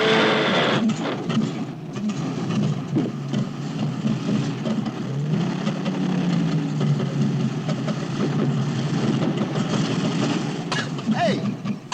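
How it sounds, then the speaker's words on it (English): Car engine left running with gas fumes building inside, a steady low mechanical hum and rattle continuing throughout while people talk over it. "That means the engine's still running."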